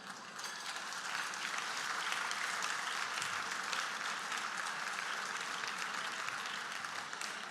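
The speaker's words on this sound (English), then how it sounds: "And I think you can applaud here." Audience applause during a speech at the 2024 UNCA Awards Gala, a dense, sustained wash of many hands clapping in a large room, even and steady throughout with no talk over it.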